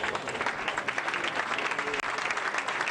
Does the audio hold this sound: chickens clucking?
no